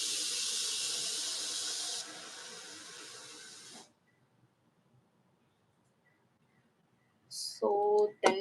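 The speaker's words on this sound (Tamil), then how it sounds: "தண்ணி கொதிச்சிட்டு இருக்கு" A pot of water boils for chicken biryani, giving a steady hiss for about four seconds before it cuts out into near silence, followed by a short burst of voices.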